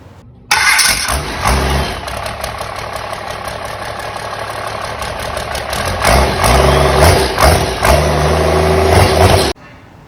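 A Cummins diesel engine in a high-mileage truck cranks, fires and settles into a loud, rough, rumbling idle that swells slightly before cutting off abruptly.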